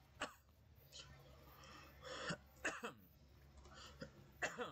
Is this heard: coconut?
no